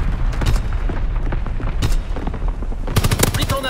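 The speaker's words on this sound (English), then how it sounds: "Incoming enemy artillery!" Incoming enemy artillery explodes around a Hardcore Domination match at USS Texas, heavy booming blasts landing one after another amid rattling machine-gun fire, with loud bursts crashing in near the end.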